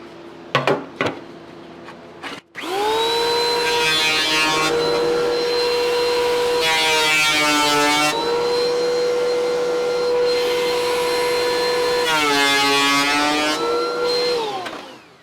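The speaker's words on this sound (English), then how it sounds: "I'll just run it through enough to get the edges really smooth." A small benchtop planer on a planer table smoothing the edges of wooden chess board pieces, loud continuous motor whine that rises and bogs slightly as stock feeds through, after a few knocks of setup.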